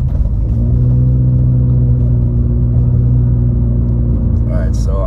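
A car cruises along a road near the Robin Hood Resort, its engine humming as a loud, steady low rumble inside the cabin, with a brief higher noise near the end.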